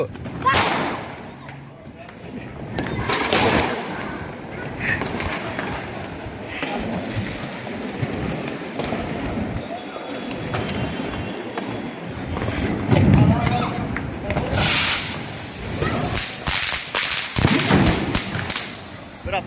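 Loud Diwali firecrackers burst in sharp bangs among apartment buildings, some near and some farther off, amid excited voices and background commotion.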